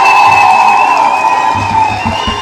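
Loud, sustained applause and cheering from an audience, a dense continuous roar of clapping and voices that holds steady from start to finish.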